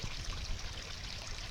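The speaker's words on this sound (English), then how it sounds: "Beware for a very dirty waterfall." Muddy floodwater pours steadily down a waterfall after rain in Montana, a continuous broadband roar and hiss with no pauses.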